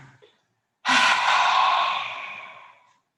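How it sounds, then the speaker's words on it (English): A loud, forceful yogic lion's breath pushed out through the open mouth with the tongue out: one long, breathy roar of air that starts abruptly and fades over about two seconds, close and alone. "Breathing in and out through the mouth, roaring out the breath, tongue coming out."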